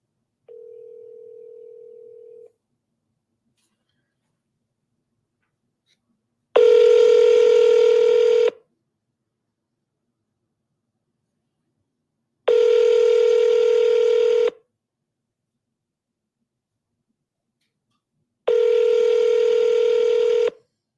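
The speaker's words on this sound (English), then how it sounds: "Let's give him another call, shall we?" A telephone dial tone, then three long, evenly spaced loud ringback-style tone bursts separated by silence, clean and close with no voices.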